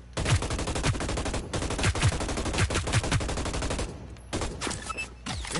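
Rapid automatic gunfire bursts in the video game Hyper Scape, loud and close with punchy repeated shots, a brief pause near the end before a few scattered sounds.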